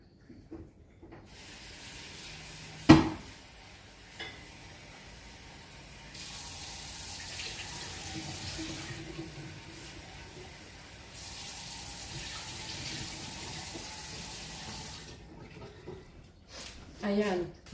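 Tap water running over oats being rinsed in a kitchen before cooking: moderate, steady running water in two long stretches, with a sharp clatter near the start and bits of speech in between.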